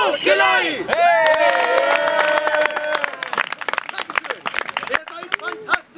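A festival crowd at a medieval spectacle in Neuenbürg shouts and cheers for a medieval band, with loud voices at first, then a long stretch of clapping and scattered whoops that thins toward the end.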